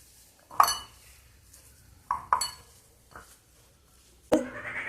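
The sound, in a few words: mixing radish paratha filling with coriander leaves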